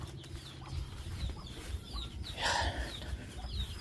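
Chickens kept in a backyard cluck softly and intermittently at a distance, with a brief louder squawk midway over a low, steady outdoor background.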